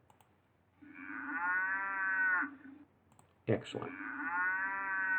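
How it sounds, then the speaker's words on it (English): A downloaded cow moo sound effect plays twice: two long, low, drawn-out moos separated by a click, close and clear in a quiet room, with a brief spoken word. "here's the cow sound that I downloaded"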